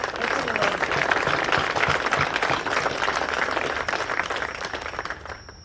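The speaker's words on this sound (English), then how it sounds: "Can we give a round of applause?" Sustained applause from a seated audience at a military change of charter ceremony for a division artillery formation, steady dense clapping throughout that thins slightly toward the end.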